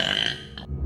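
A single loud, close burp, rough and low, lasting under a second and cutting off abruptly, alone without talk.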